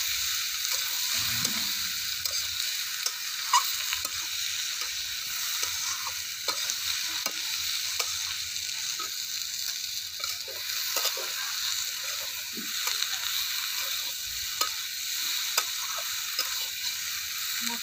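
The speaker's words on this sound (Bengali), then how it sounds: "মশলার সঙ্গে বাঁধাকপি আলু খুব ভালো করে কষে নিয়েছি।" Pre-fried cabbage and potato cook with spices in a pan for a vegetarian cabbage kalia; a constant bright sizzle runs throughout, with soft, irregular stirring taps.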